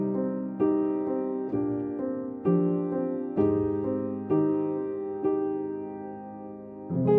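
A softened piano part plays in music production software, sustained chords struck roughly every second, each decaying gently before the next, mellow and clean with no talk.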